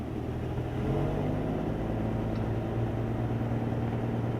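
A 1976 Ford F-150 pickup truck drives along, its engine rumbling steadily at low pitch with cab vibration, close and continuous throughout.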